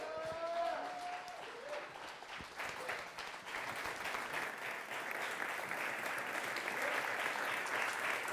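Church congregation applauding as a pastor is welcomed to the stage, a steady wash of many hands clapping at moderate distance, after a brief sung or spoken tone at the start.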